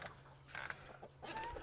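Backyard chickens cluck in short, scattered calls, fairly faint and slightly distant, with quiet ambient noise between them.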